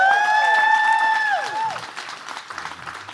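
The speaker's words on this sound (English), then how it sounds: "give them another round of applause" Audience applause for musicians at a music show rises as a sustained sung or held note ends and slides down, then continues as a scattered, crowd-wide patter with a few cheers.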